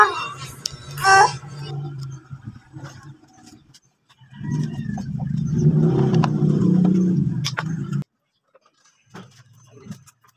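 A Kawasaki Barako motorcycle engine, just repaired after a misfiring fault, fires up and runs with a steady low rumble for several seconds, then cuts out and briefly restarts. There is no talk.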